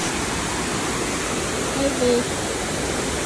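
The strong river current at Matigol Falls makes a loud, steady rushing roar that fills the whole scene, with a faint voice briefly surfacing partway through.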